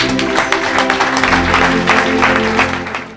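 Applause from an audience at a church mission event fills the room with a steady, loud wash of clapping that holds throughout and tapers slightly at the end.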